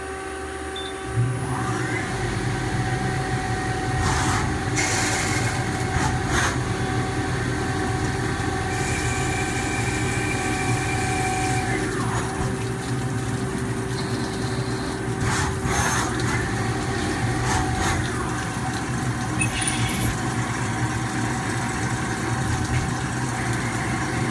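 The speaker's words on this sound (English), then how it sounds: "So you can see what copper looks like being machined." A machine drills a copper pen part at 1,500 RPM, giving a steady, loud mechanical whir with sustained tonal lines and a low hum throughout, a few sharper bursts rising and falling along the way.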